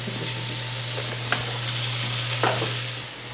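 Spinach dropped into a hot pan turned up to high sizzles steadily and close, with a couple of brief scraping stirs cutting through over a constant low hum.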